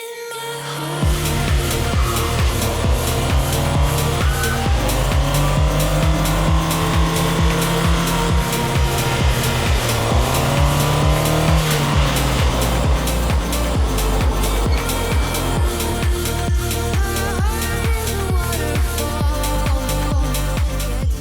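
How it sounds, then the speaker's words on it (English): A 2025 Toyota Prius AWD is driven hard, its engine note rising and falling through repeated revs while tires squeal in long, wavering bursts, loud and close throughout with no talking. "today we're taking this 2025 Toyota Prius all-wheel drive for a bit of a spirited drive and a handling review."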